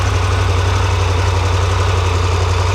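Triumph Tiger 1200 GT Pro motorcycle engine idling steadily, a close, loud, even low throb with constant rhythmic pulsing and no talk over it.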